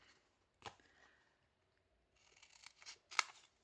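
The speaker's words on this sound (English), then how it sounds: "now you are going to cut away the corners" Scissors snip away the paper corners of mini album pockets, with a few quiet, crisp cuts and paper rustles heard up close.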